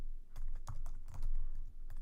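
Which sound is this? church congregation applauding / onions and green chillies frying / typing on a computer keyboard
typing on a computer keyboard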